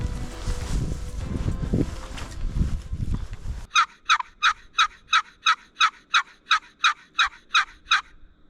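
Wild turkeys in a field in southern Minnesota: about a dozen evenly spaced, loud gobbling calls ring out in a steady rhythm after a few seconds of gusty wind rumble.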